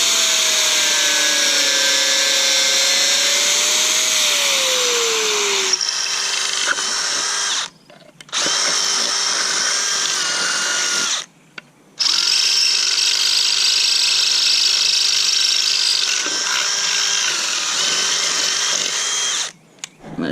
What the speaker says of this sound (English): Probably gonna have to drill a hole here and make a little bracket for it.